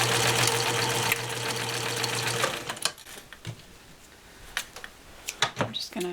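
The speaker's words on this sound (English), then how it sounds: "I'm just going to sew across the top." A sewing machine stitches across the top of a sock bunny in a steady, loud mechanical whir that stops after about three seconds, followed by quiet handling clicks and rustles of fabric.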